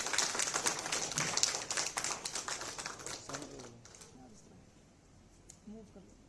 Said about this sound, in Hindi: एक बार जोरदार तालियां दोस्तों